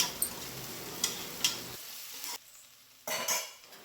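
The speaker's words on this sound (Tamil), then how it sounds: "அதுக்கப்புறம் கருவேப்பிலை ஒரு கொத்து ஆட் பண்ணிக்கோங்க, அதையும் சேர்த்து நல்லா வதக்கி விட்டுக்கலாம்." Onions and curry leaves are stirred and sautéed in a pan for a spicy country chicken dish: a steady close sizzle broken by scraping spoon strokes, with a brief lull before the frying swells again.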